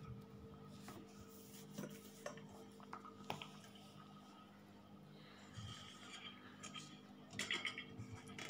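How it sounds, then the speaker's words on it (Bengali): Leftover pots and bowls are cleaned and moved aside in a home kitchen while mishti doi is made, giving off faint, scattered clinks and scrapes of metal and ceramic. "আমার এই যে অবশিষ্ট পাত্রগুলো, কেননা এগুলোটা এখন আমার কাজ নেই, তাই আমি ক্লিন করে এগুলো এক সাইডে সরিয়ে রাখতেছি।"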